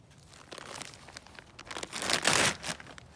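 Plastic packaging of a Soil Cube soil block is torn open and crinkled up close, with scattered crackles building into a louder burst of ripping and crumpling, then tapering off; no talk.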